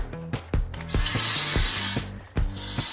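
An engine hoist is lowered while supporting a Fiero during engine removal, its ratchet giving a run of sharp metallic clicks and clunks in an irregular rhythm, close and clear with no talking.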